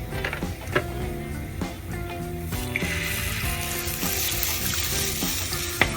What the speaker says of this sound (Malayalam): ഇനി നമുക്ക് ഇതിലേക്ക് ആവശ്യത്തിനുള്ള വെള്ളം ഒഴിച്ചു കൊടുക്കാം